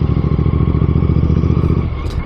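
A motorcycle on engine braking, rolling downhill on a mountain route toward Bairagarh on the Sach Pass ride, heard as a steady, close, throbbing low engine putter with a light clatter throughout.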